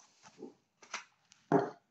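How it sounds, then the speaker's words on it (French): A dog indoors lets out a few short, soft whines and grumbles, three brief bursts with the last one the loudest. "Et oh le chien, on se calme."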